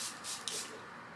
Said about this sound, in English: I am going to spray my face, set this bad boy